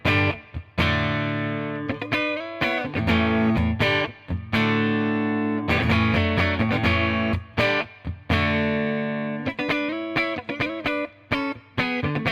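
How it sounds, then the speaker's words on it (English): An electric guitar plays clean tones through a Beekeeper preamp by Tubesteader, fed into an effects return. Strummed chords and picked notes ring out close and loud, with brief gaps between phrases. "So we'll start off with some clean tones directly into the effects return."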